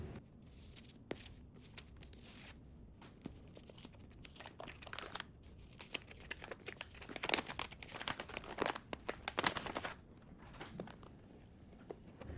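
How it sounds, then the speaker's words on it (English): Packaging for a Cartier Santos de Cartier ballpoint pen is unwrapped up close, with quiet crinkling and rustling of paper in irregular bursts that grow busier toward the middle, with no talking. "So here it is, the full unboxing of my brand new pen."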